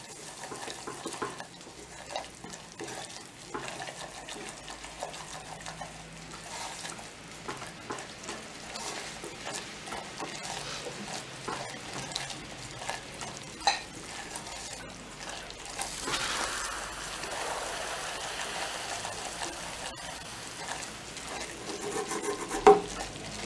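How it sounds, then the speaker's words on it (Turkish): Zucchini is sautéed in a pan during home cooking. A soft, continuous sizzle goes on throughout, with occasional light stirring and utensil clicks. It stays fairly quiet and close, with no one speaking. "Bunu da güzelce kavurayım."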